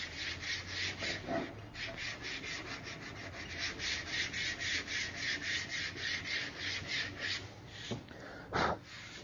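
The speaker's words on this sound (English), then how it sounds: "Now that we've got the Bondo sanded with the 80 grit to smooth out some of our 36 grit scratches" A sanding block with 80 grit paper rubs back and forth over Bondo body filler on a car panel, a steady rhythmic rasping stroke repeated many times, close and even, with a couple of heavier scrapes near the end.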